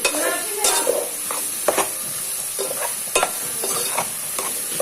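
Mushroom curry with chili powder and masala frying in a pan, with a steady sizzle broken by several sharp scrapes and clinks as a spoon stirs against the metal, all close by and with no talk.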